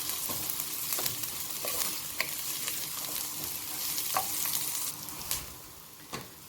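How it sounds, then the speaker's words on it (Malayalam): Onions sautéing in a pan for a fusion pasta, stirred steadily: a continuous close sizzle and frying hiss with soft scraping strokes and occasional sharper clacks of the utensil against the pan, no voices. "നമുക്ക് ഒണിയൻ ചേർത്ത് കൊടുക്കാം. നന്നായിട്ടൊന്ന് ഇളക്കിക്കാം."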